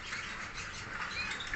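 Hen bird calling in a breeding selection setting, a continuous bright chirping and twittering chorus of close birds with no break throughout.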